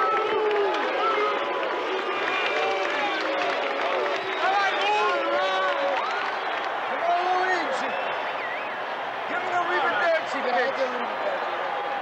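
A partisan baseball crowd at the 1978 World Series cheers and chants steadily, a dense roar of many voices under continuous announcer narration.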